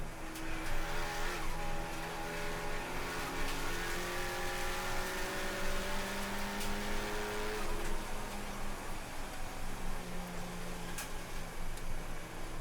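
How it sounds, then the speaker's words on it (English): A Volkswagen Jetta races other cars at Summit Point on Labor Day, heard from inside: a loud, continuous engine drone rising and falling through gear changes, with brief tire squeals and passing-car noise. "Catching them pretty quickly under braking here, and passing both of those cars on the inside"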